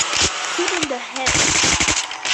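Rapid automatic gunfire rattles in the video game Zombie Uprising, loud and close in dense bursts with a brief gap. A voice talks through the shooting.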